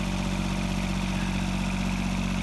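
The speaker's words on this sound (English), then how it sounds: "It's the old 455. It's the only tractor I have a blade for." An old 455 tractor fitted with a snow plow blade, its engine idling steadily up close with a constant low throbbing drone and no voices.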